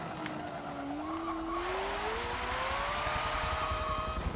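Front-wheel-drive four-rotor build in Forza 7 spinning its wheels, a continuous engine drone climbing steadily in pitch with tire squeal layered over it, loud and close throughout.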